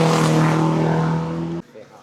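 A Ferrari 330 P4 replica race car drives a hill climb course, its loud engine droning steadily close by and then cutting off abruptly near the end. Speech-like sound is mixed in.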